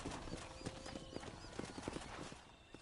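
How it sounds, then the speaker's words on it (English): Horse hooves clip-clopping at a quick pace in the Red Dead Redemption video game, a steady rhythmic run of thuds over a busy ambient game soundscape. "Hit your horse and wait for me by the stable."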